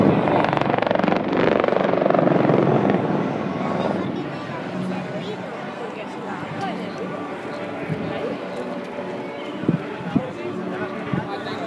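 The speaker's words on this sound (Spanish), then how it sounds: "los otros helicópteros para efectuar un pintado de un anillo y cruce de los otros traseros" A loud, continuous rotor roar from display-team helicopters passing overhead at an air show, fading slightly after a few seconds while a voice talks over it.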